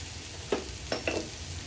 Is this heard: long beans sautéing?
yes